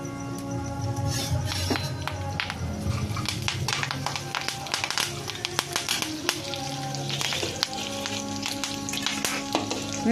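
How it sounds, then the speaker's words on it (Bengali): Black cumin seeds and curry leaves sizzle and crackle in hot oil, a dense, busy frying hiss with sharp popping snaps throughout, close and fairly loud. "এর মধ্যে কালো জিরে ফোড়ন দেবো, কারি পাতা দিয়ে দেবো"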